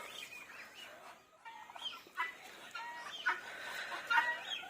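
A hen clucks in short, repeated bursts close by, with a few louder calls near the end, set against a steady outdoor background hum.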